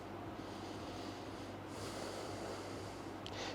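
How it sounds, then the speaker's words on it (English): Steady, close breathing during a yoga backbend flow, a soft airy hiss sustained through an inhale and exhale, with no talk. "Another inhale and exhale here."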